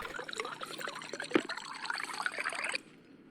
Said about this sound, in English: Fill up the water bottles.